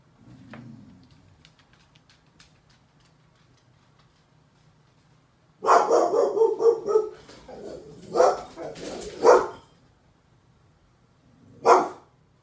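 A dog barks in a few loud bursts, a cluster of rapid barks followed by two single sharp ones after a pause, close to the microphone.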